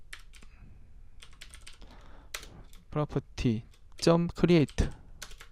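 Quiet clicking of computer keyboard keys in irregular bursts, with someone speaking Korean over the typing partway through.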